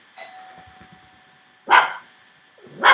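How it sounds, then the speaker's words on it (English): Dog barking indoors in reaction to a doorbell, two loud, sharp bursts about a second apart after a faint chime, close to the microphone with no talk over them. "Sorry, that's my dog."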